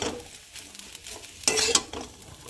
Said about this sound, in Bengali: এইভাবে সুন্দর করে আমি নাড়া দিয়ে নেব সয়া সসটা দিয়ে